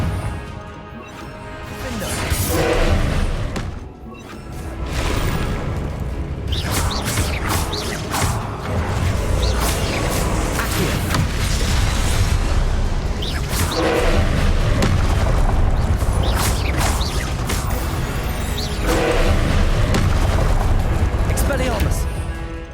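Confringo blasting spells explode again and again during a Hogwarts Legacy battle, a dense run of booms, crashes and smashes with clanking mechanisms, heavy and continuous.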